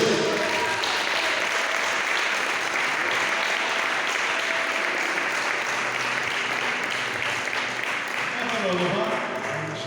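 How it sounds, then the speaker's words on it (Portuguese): A church congregation claps steadily for the pastor, a dense sustained wash of applause at a Portuguese-speaking evangelical service, with faint voices mixed underneath. "Você pode receber o pastor Romulo com as palmas bem forte para Jesus?"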